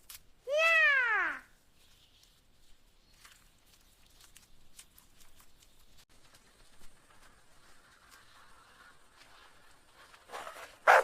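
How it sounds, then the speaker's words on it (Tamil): A small cat gives one loud, clear meow near the start, followed by faint rustling and quiet background sounds, with another brief loud burst at the very end. "ஐயோ பாவம், சின்ன பூனை."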